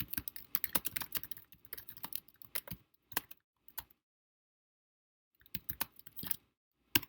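Quiet typing on a computer keyboard: clusters of rapid key clicks, then a long silent gap before another short flurry of keystrokes, with no one talking.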